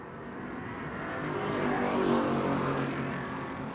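Super stock race cars roaring around the New Smyrna oval, a steady engine drone that swells as the pack nears and then eases off, with no voices.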